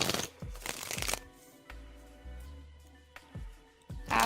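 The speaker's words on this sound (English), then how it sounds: "Cappy, I'm shuffling for you now" A deck of tarot cards is shuffled close up: quick riffles and bursts of card flicking separated by short pauses, crisp and near, with faint low background hum and no talk.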